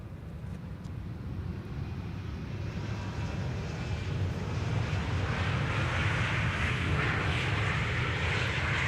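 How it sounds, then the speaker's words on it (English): KLM Embraer E195-E2 jet arriving from Oslo on the Polderbaan runway at Schiphol, a distant engine roar that swells gradually and steadily over the whole stretch, with no talk. "This is an E2 Embraer 195 arriving from Oslo, KLM flight 1198"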